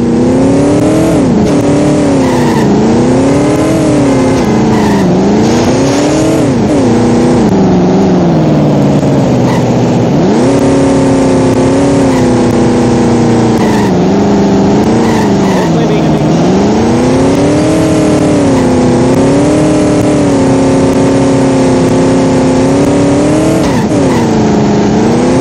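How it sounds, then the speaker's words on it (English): Cars in The Simpsons Hit and Run video game drive hard and rev continuously, with engine pitch rising and falling and tires squealing as they skid. Game character voices talk over the loud, unbroken engine noise. "What are you trying to prove with this crazy driving?"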